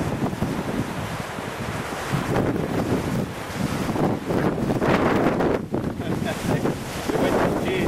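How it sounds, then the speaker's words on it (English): Strong wind buffets the microphone at the shore, a loud continuous rumbling roar that surges and gusts throughout, with wash of sea in the background. "The wind has changed."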